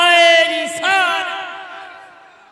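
A large crowd at a religious gathering roars a slogan in answer to a call of Naara-e-Takbeer, a loud, echoing chorus of many voices that rises sharply, is restated once, and then fades away over a couple of seconds.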